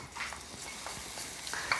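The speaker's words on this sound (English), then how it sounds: "Listen to the sizzle and smell the flavours." Faint sizzling of garlic and ginger with spices in a pan, with light stirring scrapes, quiet and close, no talking.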